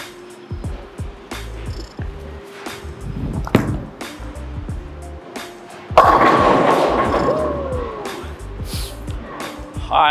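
A Storm Alpha Crux bowling ball is released onto the lane and rolls, a thud on release followed by a long, steady rolling rumble that swells loudly and ends in a pin crash, with no talking over it.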